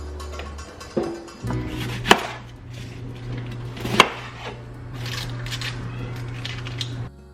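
A knife chopping vegetables thin on a board, a few sharp distinct cuts spread out among quieter handling noises and clinks, close by with no speech.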